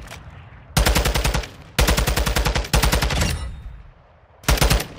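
Rapid automatic gunfire in Call of Duty Warzone DMZ, four loud bursts of fast repeating shots separated by short pauses, close and punchy with no voices.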